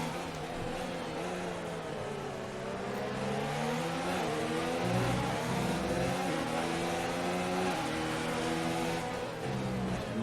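Formula 1 race cars in a video game race at the Spanish Grand Prix, engines whining steadily and rising and falling in pitch as they run close together, loud and continuous.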